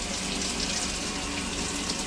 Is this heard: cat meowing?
no